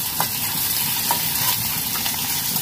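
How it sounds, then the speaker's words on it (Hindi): Onion and green chili fry in oil for moong masoor dal, giving a steady sizzle with a few soft stirring clicks, and no talk. "ये प्याज कच्चा मिर्चा दोनों एक संग में, अब इसको ब्राउन होने तक फ्राई करेंगे"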